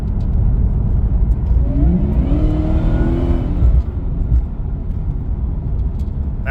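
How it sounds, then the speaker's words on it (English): A car engine revs up under light acceleration, its pitch climbing for about two seconds before settling back, loud and close over a steady low rumble. "just by accelerating a little bit, it sounds a little bit louder"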